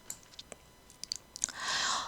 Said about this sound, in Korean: 로그인 버튼을 눌러볼까요?